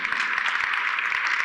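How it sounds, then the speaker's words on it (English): Steady applause from a community gathering at a Cleveland ward meeting, dense and continuous clapping filling the room at moderate volume with no speech over it. "Please give him a round of applause."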